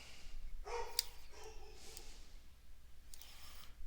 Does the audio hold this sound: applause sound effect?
no